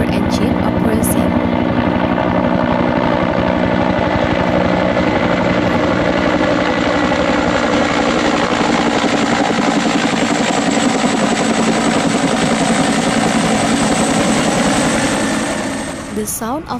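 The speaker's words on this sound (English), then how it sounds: "the sound of the helicopter engine approaching," A helicopter engine approaching, its rotor producing a dense, steady thumping roar that stays loud and close throughout, with a slight Doppler pitch shift before it cuts off.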